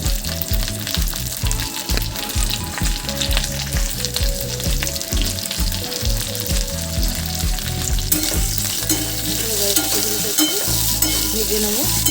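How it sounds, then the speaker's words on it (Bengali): Bitter gourd frying in oil with salt and turmeric, a loud continuous sizzle with rhythmic stirring scrapes throughout, close and steady. "ভেজে নেবো ভালো করে।"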